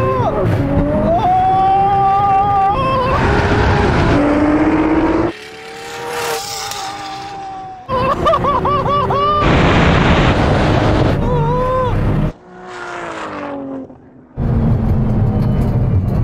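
Modified Nissan GTR cars launching in a drag race, with loud engines revving and screaming up through the gears, sharp pitch climbs broken by brief gaps between shifts, close and dominant, with no talking.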